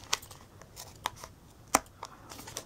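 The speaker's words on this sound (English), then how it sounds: "you take a sharp scissor and just cut out the sides" Sharp scissors cutting the sides of a yogurt or oatmeal container lid to make a ring, a few crisp separate snips and crinkles of plastic or card spaced irregularly, close and quiet, with no talk.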